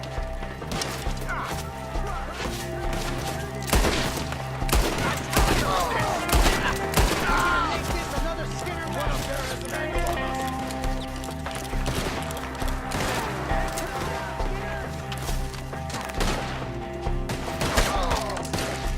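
Dense gunfire rings out in a Red Dead Redemption 2 shootout, shots and volleys crashing continuously over busy game sound with some horse movement, while voices call out at points.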